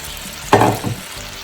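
Noodles tossed into a hot pan for a chicken stir-fry give off a brief, loud sizzling burst that rises sharply and fades within a second, close by and with no voices.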